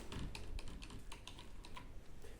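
Fingers rattle across old computer keyboards left in an abandoned building, a quick irregular run of plastic key clicks, close and steady with no pauses in the clatter.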